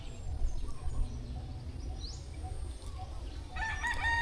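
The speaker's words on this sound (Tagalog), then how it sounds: "Ang maririnig mo lang huni lang ng ibon" Outdoors in cool, breezy air, a rooster crows faintly in the distance among other birds, and a burst of high chirping comes in near the end, all at low volume with no talking.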